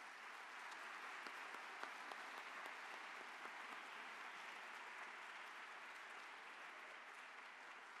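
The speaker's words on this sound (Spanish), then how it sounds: "Recibámoslas con un fuerte aplauso." Audience applause welcoming a lecturer at a university lecture, a steady dense clapping from a large hall crowd, heard at a distance and sustained throughout without voices.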